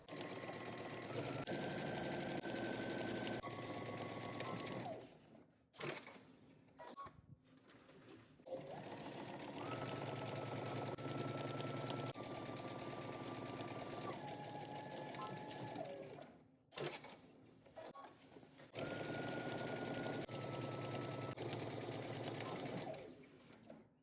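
A sewing machine runs long, steady bursts while stitching the side seams of a jumpsuit from the hem upward at a 5/8-inch seam allowance, with brief stops between runs, close and loud.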